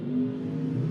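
Drag-racing door cars revving hard at the start line of a memorial drag race, a loud, steady mid-pitched engine roar filling the whole moment with no talk.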